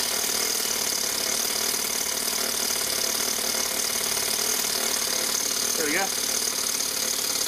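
A small engine runs with a steady buzzing drone that eases as the throttle is turned down, with a brief voice near the end.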